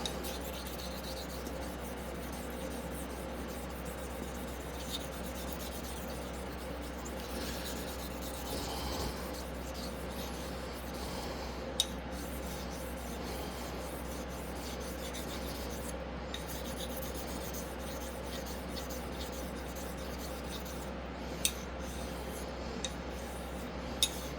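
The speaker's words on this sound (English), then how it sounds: "Following the natural contours of the blade, using a rolling X stroke" A straight razor is honed on a whetstone with rolling X strokes, a continuous soft, close rasping and rubbing of steel on stone with occasional faint ticks, steady throughout.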